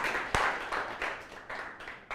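A small audience at a live show claps in scattered, uneven bursts, with one sharp loud clap near the start and softer, intermittent clapping after it.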